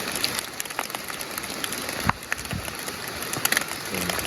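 Steady rain falling outdoors during a rainy-season mushroom-foraging outing in rural Thailand, a continuous broadband patter with scattered louder drops and small knocks, with no talk over it.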